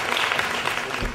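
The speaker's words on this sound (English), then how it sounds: "Can we give them a hand clap for where we're at now?" A brief burst of clapping from an audience, dense and moderately loud, cutting off abruptly.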